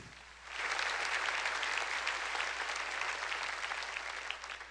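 A church congregation applauds during a service, a dense, sustained burst of clapping that starts abruptly and holds steady at a fairly loud level until the end.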